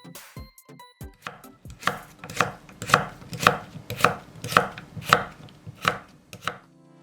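Knife slicing a halved cucumber diagonally into thin pieces on a cutting board, about a dozen crisp, evenly spaced chops close up, with a few quicker taps at the start.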